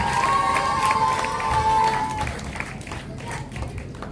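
An audience at an Urdu mushaira claps and cheers loudly for a few seconds, the applause then thinning out while a speaker's voice carries over the hall.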